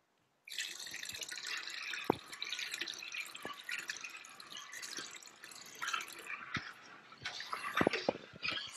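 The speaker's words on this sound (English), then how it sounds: "And then I'll speed it up by adding a little bit of water." Water is trickled and dripped into a big pot while it is stirred during smoked-meat cooking, giving faint close splashes and drips with a few sharp clinks against a quiet background.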